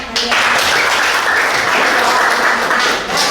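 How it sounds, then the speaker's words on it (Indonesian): A classroom of children clapping their hands together, a steady, loud burst of applause lasting the whole short stretch with no talk over it. "Tepuk tangan"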